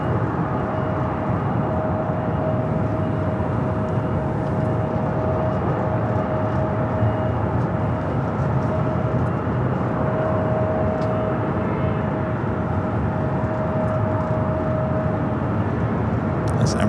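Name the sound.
Emirates airliner at LAX turning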